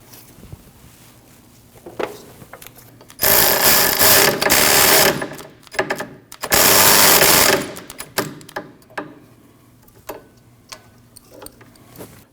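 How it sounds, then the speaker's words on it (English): A 12mm bolt is tightened on a brake backing plate of a 2003-2008 Subaru Forester, with two loud bursts of rapid, buzzing power-tool rattle separated by pauses and scattered clicks and clanks of handling. "Install your 12mm bolt and tighten it."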